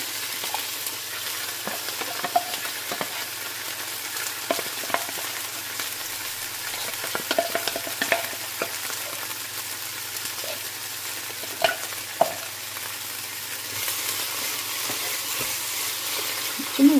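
Ground masala fries with a steady sizzling hiss in a pan for chana soup, with intermittent scrapes and taps of a spoon stirring it, close and continuous with no speech.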